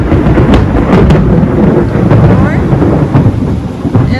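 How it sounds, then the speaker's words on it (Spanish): Loud, continuous low rumbling thunder rolls through a heavy rainstorm in Michoacán, with dense rain noise throughout and a few sharper cracks near the start. "Está haciendo unos truenos."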